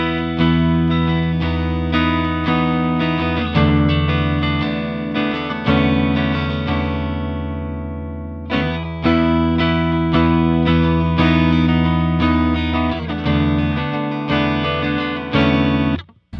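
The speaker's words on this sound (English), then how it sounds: "This is the sound of the Blues Deluxe without any pedal turned on." A Stratocaster electric guitar played straight into a Fender Blues Deluxe amp with no pedal, sustained strummed chords ringing loud and steady for about sixteen seconds, briefly thinning midway before full chords return, with no talking.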